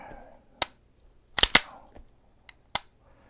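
Sharp mechanical clicks from the trigger of a NightHawk Custom Agent 2 pistol being worked, about six crisp snaps spaced irregularly, close up and alone in a quiet room.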